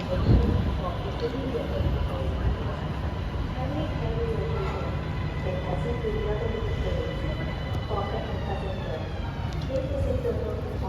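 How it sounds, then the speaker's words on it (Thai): A metro train rumbling steadily into an underground station in Thailand, with a rising whine and squeal of brakes, while people talk over the noise. "ตอนนี้รถไฟกำลังวิ่งเข้า สถานีแล้ว"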